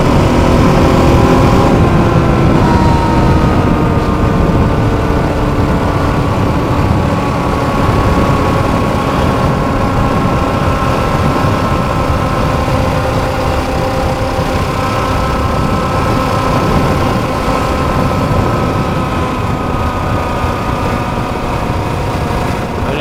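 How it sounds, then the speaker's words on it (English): A motorcycle engine runs under a light touch of throttle, a loud, steady, close drone with a slowly shifting pitch that holds for the whole stretch. "A little breath on the throttle."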